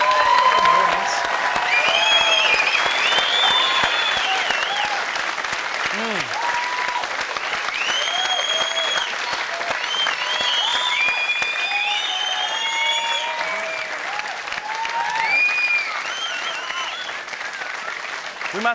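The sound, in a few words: studio audience applause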